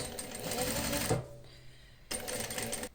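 Sewing machine stitching a leather welt pocket, joining the welt to the underwelt with a seam set in from the edge; a close, steady mechanical whir that pauses briefly, then resumes.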